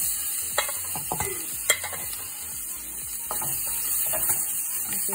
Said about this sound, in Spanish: la vamos a poner a sellar aquí en el sartén